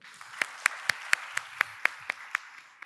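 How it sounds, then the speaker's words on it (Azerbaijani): At a panel session of a public forum, an audience welcoming a guest speaker claps in a steady, evenly spaced rhythm of about nine sharp claps, moderately close, with no talk. "bir də alqışlayaq zəhmət olmasa"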